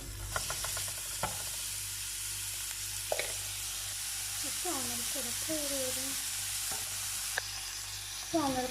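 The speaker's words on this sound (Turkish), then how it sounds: "küçük küçük doğramış olduğum soğanlarımla birlikte kavuracağım" Finely chopped onions sizzling steadily in a hot pan, with scraping and stirring noises and a few squeaky scrapes, close and fairly quiet.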